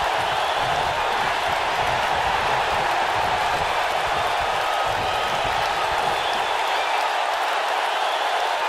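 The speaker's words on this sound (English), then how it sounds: "This crowd never doubted The Rock." Video game arena crowd from WWE 2K19 at a Hell in a Cell match between The Rock and Batista, a constant dense roar of cheering and applause that stays loud and unbroken throughout, with no talk over it.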